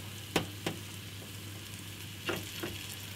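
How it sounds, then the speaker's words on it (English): Lamb shanks sear in a long, very hot pan set over two burners, giving a steady close sizzle broken by a few sharp clunks as the meat is moved. "shanks in, you need to seal them on as many sides as you can."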